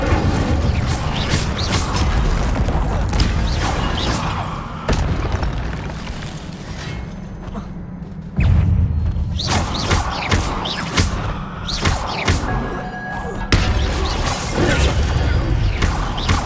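Spell combat in the video game Hogwarts Legacy, with Incendio fire spells cast amid a dense, loud barrage of booms, crashes and thuds that runs continuously with several sharp impacts.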